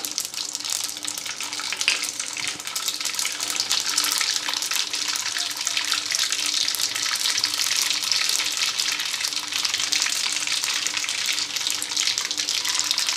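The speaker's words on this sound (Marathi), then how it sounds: "आता अपन ही भाजी फोड़नी दे पहिले मोहरी टाकूया नंतर जिरं" Mustard seeds and cumin sizzle and crackle in hot oil while tempering chili bhaji, a dense, loud, continuous hiss that stays steady from start to finish.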